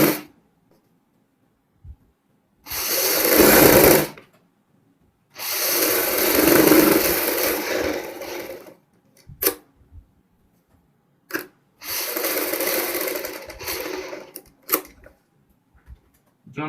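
Fabric for a child's fancy dress being stitched on a sewing machine, heard as three separate runs of rapid mechanical whirring, each a few seconds long, with quiet pauses and small clicks between them.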